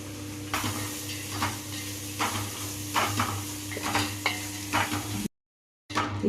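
Cabbage being stir-fried in a pan with pepper powder for chicken fried rice: rhythmic spatula scrapes and clinks over a steady sizzle, close by, then a short break of silence near the end.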